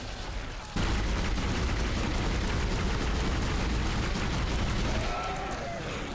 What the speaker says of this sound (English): I gotta shoot this fucker's arms off